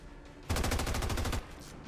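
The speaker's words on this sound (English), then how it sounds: "Vegeta, with the light machine gun, how's this sound?" A light machine gun fires a single rapid burst of about a dozen evenly spaced shots in the XCOM 2 video game, loud and close, then cuts off into quiet background.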